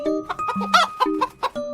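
Several hens clucking in short, repeated bursts, close by, with a steady low hum underneath.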